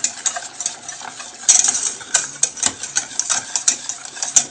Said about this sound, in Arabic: كنبقاو نحركو مزيان فوق العافية حتى تبدا تعقدين.